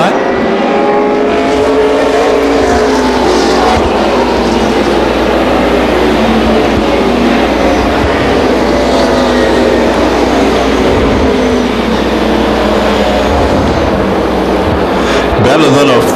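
NASCAR Busch North Series stock cars racing around Beech Ridge Motor Speedway, a loud continuous engine roar that swells and fades as the cars pass, with a commentator talking over it throughout.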